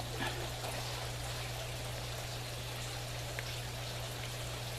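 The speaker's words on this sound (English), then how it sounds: "Right now the water is flooding into the trap." Water rushes and trickles steadily at low volume into an aquaponics bell siphon, with a constant low hum underneath.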